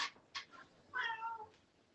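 Several short cat meows in a home kitchen where soup is simmering, two quick calls followed by a longer drawn-out meow, fairly close and clear against a quiet background.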